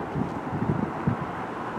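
Steady broadband wind noise buffeting the microphone on a very cold, windy day at the coast in southern Maine, with faint low murmurs of a voice underneath.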